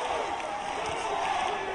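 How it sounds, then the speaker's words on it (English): A large arena crowd at a K-1 World MAX 2010 kickboxing final roars in support of fighter Yoshihiro Sato, a dense, sustained wall of cheering and shouting with no break. "The crowd are rallying here for Sato"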